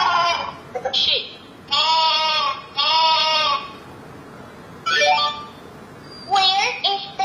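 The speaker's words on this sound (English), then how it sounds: "sheep." Recorded sheep bleats from an electronic talking kids' picture book, several short wavering baa calls in quick succession, clear and close, followed by a brief spoken word.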